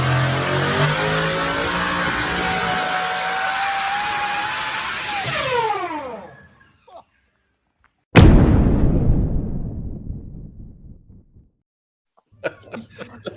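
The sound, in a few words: car engine on dyno, test pass number 12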